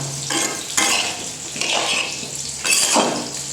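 Greens with salt frying in a pan as a spatula stirs them, giving several bursts of scraping and clattering against the pan over a steady sizzle, close and fairly loud with no voices.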